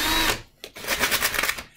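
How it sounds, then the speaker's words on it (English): A power drill spins a wooden dowel against a sanding block in a workshop, giving a close, whirring grind that dips briefly and then resumes with a rough, fluttering scrape. "Then all you got to do is chuck it up in your drill like so"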